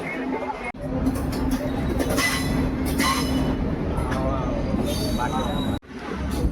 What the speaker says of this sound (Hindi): तो हमारी वाली ट्रेन इंटेंस कर्व ले रही है जोधपुर वाली लाइन की तरफ।